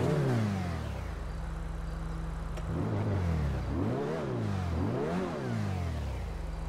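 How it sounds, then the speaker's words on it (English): A video game sports car, the Invetero Coquette from GTA Online, starts up with a low engine crank, then settles into an idle broken by several quick revving swells that rise and fall in pitch. "let's hear the startup sound of the car"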